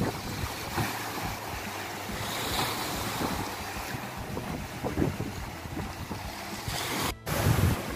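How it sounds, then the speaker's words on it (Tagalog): Strong sea waves churn near a fishing community's shore during Typhoon Quinta, a continuous loud roar of surf mixed with heavy wind buffeting the microphone and a brief dropout near the end. "napakalakas pa ng alon dito sa part ng ng lugar namin"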